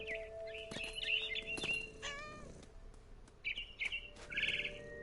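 A mother bird chirps in the video game What Remains of Edith Finch, with bright repeated tweets and short warbling calls. They come in close bursts over a quiet game ambience, and no one speaks.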